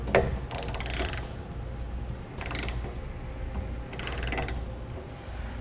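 Ratchet wrench tightening the base rail of a Thule TracRac SR sliding truck bed ladder rack: three bursts of rapid close clicking separated by quieter pauses, with no talk.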